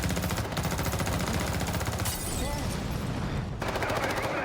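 Video game gunfire shown at a gaming showcase, sustained rapid automatic fire with steady fast bursts, loud and continuous, with faint voices beneath.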